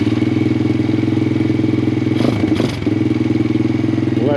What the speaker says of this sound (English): We'll start off with the Grom clone here